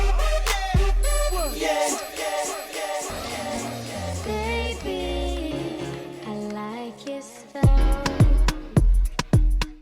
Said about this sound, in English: I can just set an echo on this track and then simply press play on the track on the right